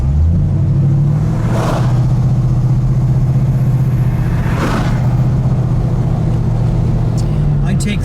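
A 1970 Oldsmobile Toronado GT with a 455 V8 and front-wheel drive hums steadily while cruising, a loud low engine drone heard from inside the car, with occasional voices over it.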